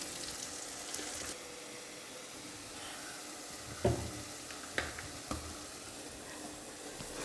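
Mint leaves fry in oil with ginger-garlic paste for a coconut chicken curry, giving a soft, steady sizzling hiss with a few small pops and clicks. The sound is faint and even, with no talking.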